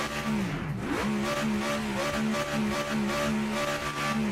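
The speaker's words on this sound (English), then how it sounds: "Listen to this car." A GT3 race car in the Project Motor Racing video game revs its engine continuously, a steady sustained drone with pitch rising and falling through gear changes, loud and close with no talking.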